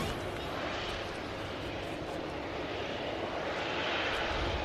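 Saudi airliner inbound from Jeddah on approach to Manchester Airport, a steady broadband jet roar that holds loud and constant throughout with a slight swell toward the end.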